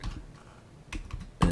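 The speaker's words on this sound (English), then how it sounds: "so you can type that in" Keystrokes on a computer keyboard while entering a function into an Excel spreadsheet, a few scattered taps followed by a louder burst of clicks near the end, close and alone.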